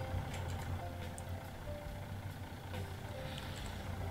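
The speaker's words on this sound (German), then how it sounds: "Wir müssen den LKW ein bisschen verschieben." Steady low rumble of a truck engine as the truck is shifted in Landwirtschafts-Simulator 19, a farming video game, idling and creeping along at a constant level with faint tonal whines, no talking.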